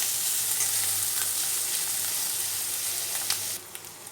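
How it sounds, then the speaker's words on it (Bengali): Onion frying in hot oil, a steady close sizzle that holds evenly, then drops away near the end with a couple of faint clinks. "পেঁয়াজটা একটু ভেজে নিতে হবে।"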